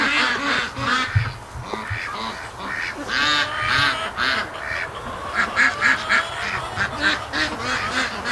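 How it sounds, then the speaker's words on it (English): A flock of Canada geese honk repeatedly and raucously, loud calls overlapping as they pass close overhead, with no one talking. "Some Canada geese."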